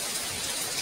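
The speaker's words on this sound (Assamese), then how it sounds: "বহুত বৰষুণ দি আছে মই দেখাই আছোঁ" Heavy rain pours in a brief, even wash of dense hiss with no breaks and no voices.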